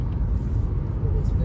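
Cars roar past on a road in a dense, continuous low rumble of engines and traffic with no clear gaps, with someone talking over the noise.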